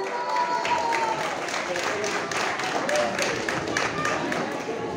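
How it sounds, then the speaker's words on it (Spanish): Wedding guests applaud the bride's father, a continuous mid-level patter of many hands clapping with some murmured voices mixed in beneath it. "¡Fuerte el aplauso!"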